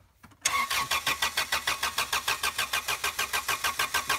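The rusty engine of a Honda Accord ute pulled from the woods cranks over without catching, the starter making a rapid, rhythmic whirring chug close to the microphone, steady for several seconds after a short quiet start.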